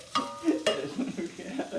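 Onions cooking in a hot pan while a utensil stirs them, giving soft scraping knocks and a low sizzle in uneven bursts; close and fairly quiet, with no talk.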